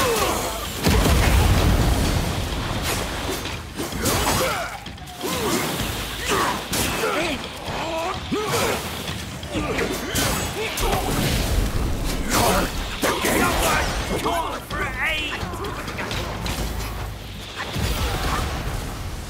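Explosions in the video game Black Myth: Wukong, several loud booms and bursts with game noise throughout, under a voice talking.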